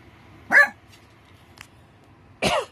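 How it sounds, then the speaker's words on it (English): A small Chorkie, a Yorkie, Chihuahua and Dachshund mix, gives two short, sharp barks about two seconds apart indoors, with a faint tick in between and quiet around them. "What are you barking at?"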